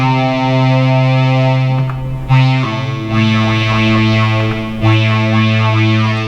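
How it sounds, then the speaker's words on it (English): Behringer Poly D synthesizer holds loud sustained notes with its chorus effect switched on, giving a thick, shimmering, slightly distorted tone that shifts pitch a couple of times, heard alone with no talking. "can you hear the difference once I kick the chorus on?"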